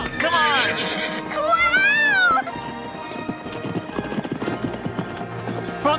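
A cartoon horse's hooves clip-clop at a gallop, with a whinny and excited voices calling out over the rhythm in an animated fairy-tale chase.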